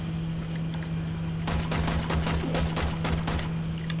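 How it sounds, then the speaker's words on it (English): Rapid gunfire from the video game Warframe, a quick string of sharp automatic shots starting partway in and continuing steadily over a low constant hum, loud and close with no voices. "Sorry, I was shooting you. Stop shooting me."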